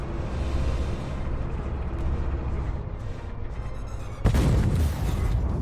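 A tank cannon fires in the Armored Warfare video game, a sudden heavy boom late in the clip that cuts through a constant low engine rumble, with no voices.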